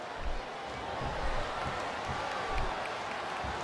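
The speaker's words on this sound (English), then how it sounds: "Listen to the crowd, JR." A broad, steady roar of a large wrestling crowd cheering in the video game WWE SmackDown vs. Raw 2007, sustained throughout at a moderate, distant level.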